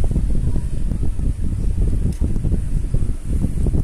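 Gusty wind buffeting an outdoor spot during sticker fitting, a loud, low rumbling roar of wind noise on the microphone, fluctuating steadily throughout with no speech.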